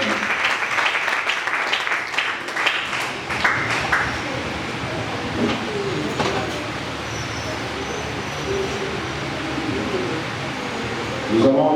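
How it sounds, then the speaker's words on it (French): Church congregation at a worship service breaking into applause, a burst of clapping in the opening seconds that thins out, followed by a low murmuring room ambience. "Acclame la parole de Dieu."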